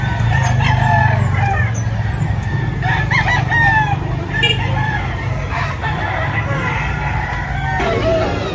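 A 13-month-old Golden Boy sweater gamefowl rooster crows amid a busy rooster farm in Lipa, Batangas, with repeated crows and clucks from other fowl over steady background noise.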